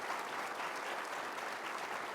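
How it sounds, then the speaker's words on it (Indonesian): A studio audience at a parody parliamentary session breaks into applause, a dense, even clatter of many hands clapping together that holds steady at moderate loudness for a couple of seconds. "Nah, boleh tepuk tangan"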